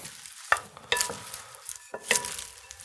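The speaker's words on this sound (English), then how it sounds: "I'm gonna give it a little stir." A spoon stirs tahini dressing into a roasted butternut squash salad in a bowl, with a few soft scraping strokes and wet, squelchy mixing sounds, close and quiet.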